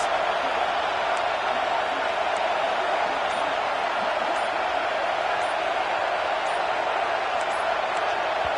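A college football stadium crowd roars continuously in a loud, steady wash of noise, sustained to rattle the opposing offense at Mississippi State, with no single voice standing out.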